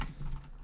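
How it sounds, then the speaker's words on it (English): Brief, soft computer keyboard typing, a quick run of muffled key taps lasting under a second, with no voices. "we're just gonna type in same thing as I did in the example"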